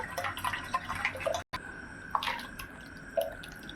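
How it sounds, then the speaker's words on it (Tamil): Sago pearls rinsed in a tumbler of water, with soft sloshing, drips and small trickling splashes, faint and close, no talking. "இப்போ இதில் ஒரு டம்ளர் தண்ணி ஊற்றி நல்லா அலம்பி எடுத்துக்கலாங்க"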